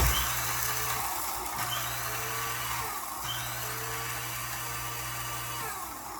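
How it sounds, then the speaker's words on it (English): Oats are ground into flour in an electric spice grinder, producing a steady, close, buzzing whine with two brief drops in pitch as the blades bog and recover, with no voices. "I use oats, and I grind it in my spice grinder, which gives me oat flour"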